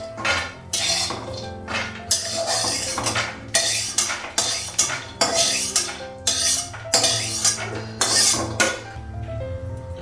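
A metal spatula clinks and scrapes against a pan while fried peanuts are lifted out after the gas is switched off, with a steady run of close, busy clatter and no talking.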